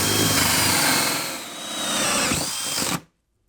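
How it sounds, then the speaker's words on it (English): A power drill bores a 2-inch hole through a floor for conduit during a sub panel installation. It whines loudly and steadily, dips briefly, rises again, then stops abruptly into silence. "So I'm going to start off by drilling the 2-inch hole through the floor."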